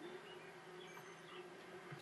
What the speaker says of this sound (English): Wait, is that bee nest still there?